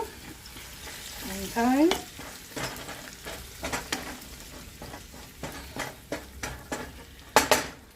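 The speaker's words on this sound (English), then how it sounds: "Once the onions are nice and caramelized, you're going to dump in your rotel." Canned Rotel tomatoes are dumped onto caramelized onions in a pan, setting off a loud sizzle followed by repeated spoon scrapes and clinks against the pan. A voice speaks briefly.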